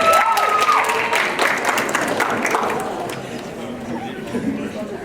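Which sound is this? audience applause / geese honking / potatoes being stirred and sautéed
audience applause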